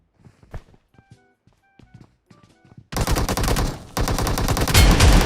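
PUBG Mobile gunfire: a few quiet footsteps and taps give way to loud, sustained automatic bursts that run close and heavy through the last two seconds, with a brief gap between them.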